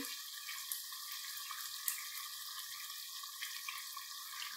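Chicken karahi sizzles steadily in a pan over high flame, a continuous close hiss of frying with faint crackles and a couple of tiny pops, and no talking.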